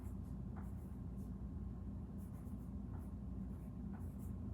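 A child writes the number 3 on paper, a steady, soft scratching of pencil strokes over a constant low background hum, with no talk.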